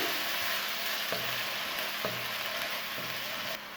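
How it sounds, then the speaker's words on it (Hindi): Garlic paste and chopped green chillies fry in about three tablespoons of hot oil, a steady close, loud sizzle with faint stirring knocks throughout, no voices. "और इनको 1 मिनट के लिए फ्राई कर लेंगे।"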